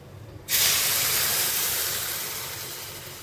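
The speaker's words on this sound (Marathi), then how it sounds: "त्यानंतर आपल्याला याच्यामध्ये अर्धा लिटर दूध टाकायचंय" Half a litre of milk hits hot, reddish-roasted vermicelli in a pan, and after a brief quiet moment a sudden loud hiss bursts out, then fades slowly over a few seconds.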